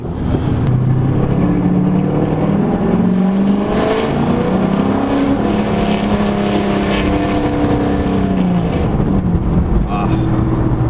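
A 2007 turbocharged V8 Mustang GT engine roars steadily and loud up close, with rising and falling pitch as it accelerates, plus wind rumble and voices underneath.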